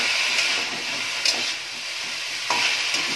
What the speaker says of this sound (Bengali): দেখো তেলের মধ্যে সজনে ফুলটা দেওয়ার পর প্রথমে আমি ভালো করে একটু নাড়াচাড়া করে নিচ্ছি